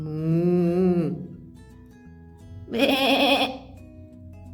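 A sheep's wavering bleat, loud and near, followed after a short pause by a second brighter, harsher bleat, with a faint hum underneath.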